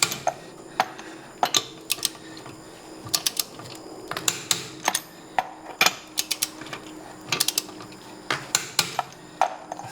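A torque wrench tightens wheel lug nuts on a 2017 Hyundai Elantra SE, with repeated sharp metallic clicks and ratchet ticks in irregular clusters, close and crisp against a quiet background.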